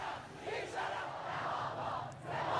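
Angry students at a protest at Amir Kabir University in Tehran chanting in unison, a large crowd's rhythmic, shouted slogans rising and falling, heard from some distance.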